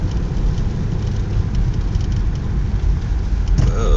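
Heavy truck engine rumble on a snowy ski area mountain road after a snow storm, a steady low drone with a brief louder swell near the end, heard from inside a vehicle climbing the road.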